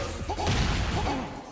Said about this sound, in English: I don't even know why I made the glass break sound.